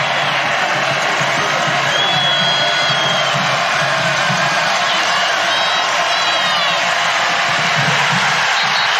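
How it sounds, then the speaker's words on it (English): A football stadium crowd at a college game between Marshall and Bowling Green cheers loudly and continuously, a dense roar with whoops rising throughout. "The crowd loves it."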